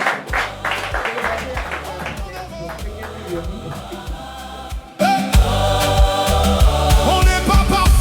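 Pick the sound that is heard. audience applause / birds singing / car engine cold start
audience applause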